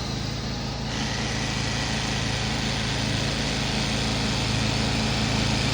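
A small gas engine runs after starting on one pull, a steady, buzzing high-revving drone that stays loud and constant throughout.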